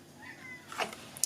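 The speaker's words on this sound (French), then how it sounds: "mon chat se réveille" A domestic cat waking up gives one short, fairly close meow partway through, in an otherwise quiet room.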